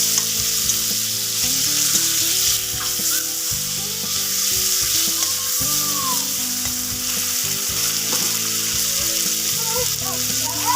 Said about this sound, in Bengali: তো সেই কড়াইতে দেখো অল্প তেল আছে, তার ভিতরে আমি কেটে রাখা টমেটোটা দিয়ে দিলাম।